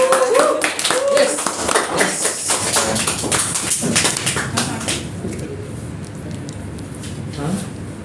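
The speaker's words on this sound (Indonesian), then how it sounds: "Tepuk tangan." A small group claps hands in a casual podcast studio, brisk, close claps over voices talking and laughing, fading out halfway as quieter conversation continues.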